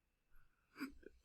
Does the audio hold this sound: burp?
yes